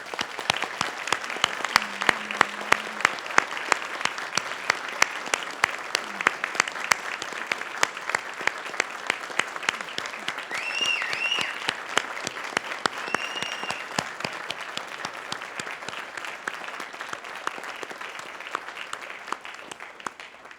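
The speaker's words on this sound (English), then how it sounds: "Now it is your turn to honor them with your applause." Graduates at a university engineering convocation applaud their families and friends, a sustained wave of crowd clapping that runs steadily for about twenty seconds with no speech over it.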